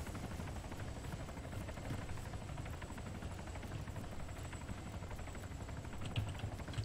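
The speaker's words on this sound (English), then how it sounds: "Look at the chopper, he cannot move." Helicopter hovering in a Metal Gear video game, a steady whirring rotor drone with low chopping texture held at an even level throughout, alone without talk.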